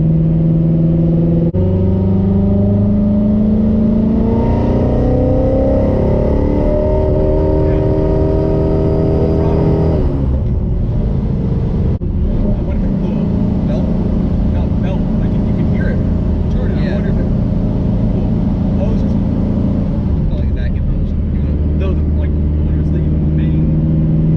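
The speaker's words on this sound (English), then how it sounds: "from the outside, the thing just sounds like a jet engine" A supercharged Ford Mustang GT350 engine revs and roars loudly and continuously, its pitch rising and falling, with people talking over the din.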